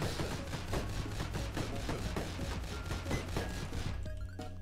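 Rapid bursts of gunfire in the video game Dead Estate crackle in a fast, even rhythm over a low rumbling backdrop, ending abruptly near the close.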